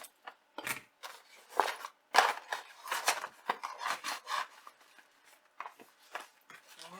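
A cardboard subscription beauty box being cut open, giving a series of short, close scraping and slicing strokes in uneven bursts with quiet gaps between them.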